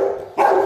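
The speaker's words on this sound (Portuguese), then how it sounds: "É um cachorro muito ativo" An active, playful dog gives a short bark burst, close and fairly loud, after a moment of quieter sound.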